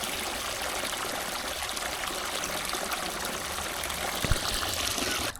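Water pours steadily into a ducks' small paddling pool, a continuous close rushing gush with no pauses and no voices.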